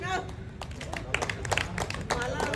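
Audience clapping at a press club Holi festival event, a ragged burst of many hands mixed with crowd noise and a voice speaking over it, fairly close.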